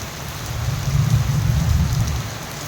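Steady rain falls heavily with a low rumbling thunderstorm undertone, a close, continuous wash of sound with no voices.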